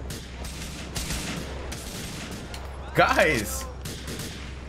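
Gunfire in Grand Theft Auto IV: a few scattered shots under ongoing game noise, with one louder burst partway through as someone shouts a short word over it.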